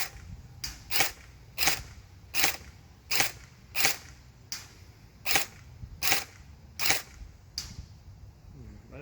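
A Lancer Tactical LT-22B airsoft rifle fires about ten sharp, evenly spaced shots, crisp cracking snaps at close range with quiet gaps between them.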